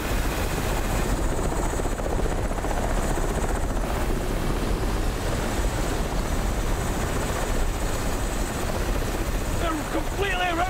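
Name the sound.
helicopter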